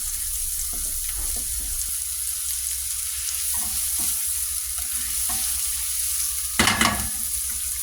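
Ham, onion and carrot fry in olive oil in a pan for fried rice, a steady close sizzle with occasional stirring scrapes and a brief louder clatter near the end.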